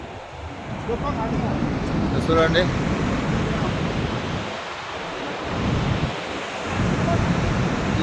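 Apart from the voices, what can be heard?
waterfall roaring, Niagara Falls between America and Canada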